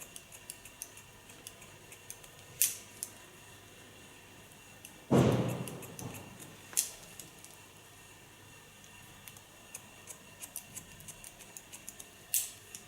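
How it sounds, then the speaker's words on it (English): Scissors point-cut into thick hair during a haircut, making sparse, crisp snips close by, separated by quiet pauses and a brief louder rustle midway. "Because she has thick hair, I go in with a point cut."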